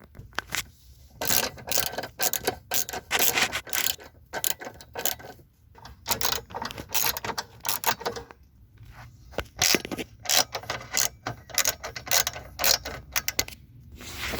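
A ratchet wrench clicks rapidly in repeated bursts while removing 13 mm bolts on a 2001 Jeep Grand Cherokee during heater core work. Brief pauses and metallic handling scrapes come between the runs of clicking.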